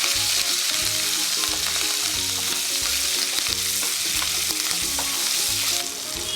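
Green chillies and curry leaves fry in a pan with a loud, continuous crackling sizzle and occasional stirring scrapes, steady throughout with no talk.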